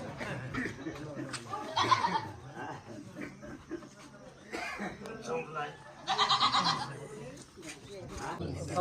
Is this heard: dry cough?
no